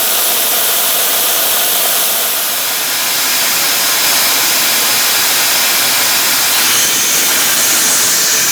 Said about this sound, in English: Here it is, the world's worst rocket engine ever.